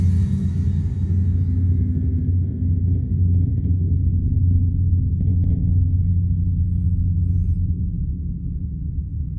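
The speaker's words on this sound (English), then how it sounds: "These are almost like impact drones" A low cinematic impact drone from the Alchemist 2 Cinematic Impacts library rumbles deep and sustained for several seconds, its brighter upper layer quickly fading while a heavy undertone continues alone.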